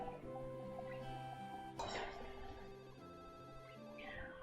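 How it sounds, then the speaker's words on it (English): A soft electronic phone ringtone in a video game chimes in repeating tones, quiet and slightly muffled, with a brief rustle partway through. "it becomes obvious that the sound's coming from her phone"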